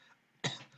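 A single short cough, close and fairly loud, from a university lecturer caught off guard by swallowed saliva during a sports science lecture, following a moment of quiet.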